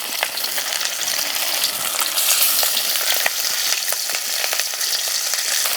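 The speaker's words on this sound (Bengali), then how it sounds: "এবার ম্যারিনেশন করা মাছগুলো হালকা করে ভেজে নেব।" Marinated katla fish fry in hot oil in a wok, giving a steady, dense, close crackling sizzle that carries on unbroken throughout.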